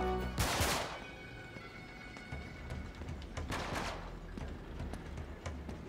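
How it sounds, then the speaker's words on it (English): Gunfire in the video game Uncharted 3: Drake's Deception, a few sharp bursts of shots standing out over a steady game soundscape. "Okay, there's some bullets now."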